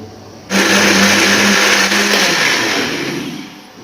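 An electric blender whirs loud and steady as it mixes a banana and strawberry milkshake, starting abruptly and then easing slightly as it runs. No one speaks.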